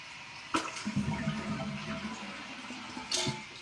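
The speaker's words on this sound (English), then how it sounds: "We're gonna flush the toilet." A newly installed toilet flushes in a bathroom under renovation, opening with a sharp clunk of the handle, then a close, loud gurgling rush that tapers off before another knock.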